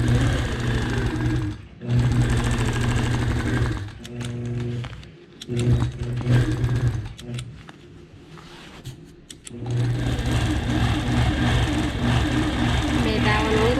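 A sewing machine runs in steady bursts while stitching a quilt design along a border ruler, a loud, continuous mechanical whir that stops briefly a few times between runs.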